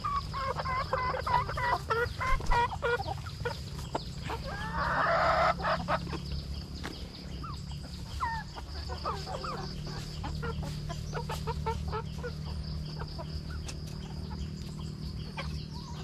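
Chickens cluck steadily at a buffet-style feeding in Laos, with soft overlapping clucks and a brief louder burst of calls near the start against constant farmyard background noise.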